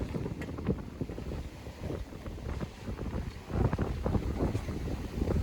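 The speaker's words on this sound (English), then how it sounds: "What an awesome sail." A sailboat moving fast under wind off the US East Coast gives a continuous rush of water and buffeting wind noise with uneven surges, and no one speaks.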